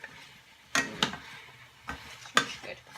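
Fish soup ingredients stirred in a pot, giving a few sharp scraping knocks of a spoon against the pot at irregular intervals over a low simmering hiss, close and moderately loud.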